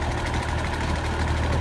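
A tractor engine idles nearby with a steady, low, rumbling throb that stays loud and unbroken throughout.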